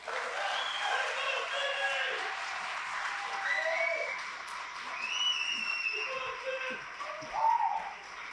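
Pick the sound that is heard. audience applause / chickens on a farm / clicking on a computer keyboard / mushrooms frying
audience applause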